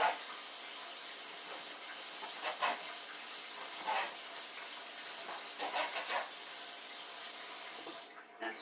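Diced leftover prime rib is rinsed under a running kitchen sink tap, a steady hiss of water with a few splashy bursts that runs for several seconds and tapers off at the end.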